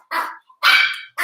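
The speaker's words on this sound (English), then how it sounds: "the dogs are going crazy" Several dogs bark loudly and excitedly indoors, three close, rough bursts in quick succession with short pauses between.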